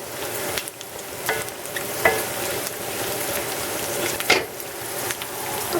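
Brown rice frying in a couple tablespoons of oil in a pan gives a continuous sizzle with occasional stirring clinks and scrapes, close and fairly even throughout.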